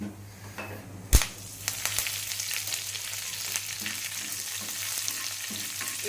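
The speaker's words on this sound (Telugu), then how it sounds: "స్టవ్ ఆఫ్ చేసేసుకొని కరివేపాకు వేసుకుందాం" Curry leaves hit hot oil for a tempering on a switched-off stove, with a sharp crackle followed by a busy, close sizzle that keeps spitting and popping.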